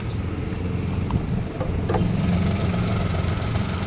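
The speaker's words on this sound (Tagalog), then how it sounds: "Nagkurog-kurog ang makina, parang gitugnaw o gitakigan." A Hyundai Eon engine idling roughly and shaking: a steady, low, uneven mechanical rumble with a faint knock partway through, continuous and close, with no talking.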